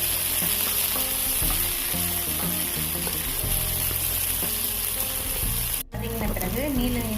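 Onion and a small chopped tomato sauté in a pan for a chickpea and eggplant kootu, a loud continuous sizzle with stirring, a brief cut near the end, and soft speech in the background.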